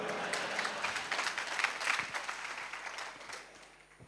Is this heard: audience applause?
yes